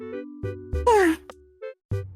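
A voice imitates a Minecraft zombie groan through an AI voice filter, giving a brief synthetic, pitched moan with a sliding tone among short filtered vocal bursts.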